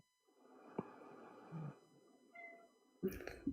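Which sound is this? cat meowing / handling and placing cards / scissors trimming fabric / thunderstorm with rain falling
cat meowing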